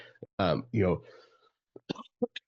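A person speaks briefly, then a few short, sharp coughs follow in quick succession, close and moderately loud.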